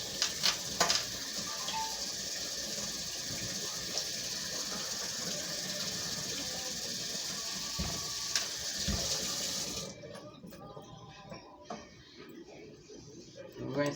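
Artichokes rinsed under a running tap, a steady hiss of flowing water with occasional clunks that stops abruptly near the end, leaving faint room noise.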